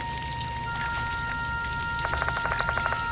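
Water trickles and spills without pause from thin rubber hoses inside a school toilet stall in a horror video game, a faint, steady splashing drizzle with a quick run of sharper drips near the end over a low hum.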